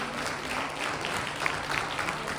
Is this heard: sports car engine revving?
no